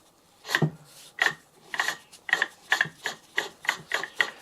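Porsche 911 996 C4S alternator clutch being spun by hand, giving a series of about ten short rasping, ratchet-like whirs at a steady pace, close and fairly quiet, with a slight bearing grind and no voices.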